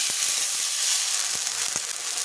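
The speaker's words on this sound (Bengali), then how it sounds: "চাটুটা খুব ভালোভাবে গরম হয়ে গেছে, সামান্য একটু জল দিয়ে দিচ্ছি" Water sizzles and hisses steadily on a very hot iron tawa griddle, a loud continuous crackling fizz with a few soft knocks underneath.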